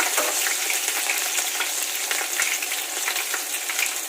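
Curry leaves and green chillies crackle and sizzle steadily in hot oil, a continuous bright frying hiss with small pops throughout, close and fairly loud, no voices.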